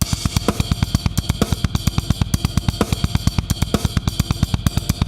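Full drum kit groove with accented ride cymbal strokes riding over a steady, dense kick and snare pattern, loud and continuous with a regular pulsing rhythm throughout.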